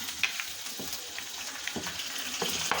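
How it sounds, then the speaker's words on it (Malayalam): Sliced onions sizzle and crackle steadily in hot oil in a pan while a crab curry is cooked in a home kitchen. The frying sounds close and constant, with small stirring clicks over it. "നമുക്ക് സവാളയും കൂടി ഇട്ട് കൊടുക്കാം."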